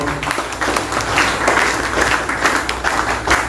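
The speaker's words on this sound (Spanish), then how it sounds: "Fuertes palmas para Guillermo también, por favor." Loud applause from an audience at a university event in Lima, a dense continuous burst of many hands clapping for a few seconds, with a faint voice underneath.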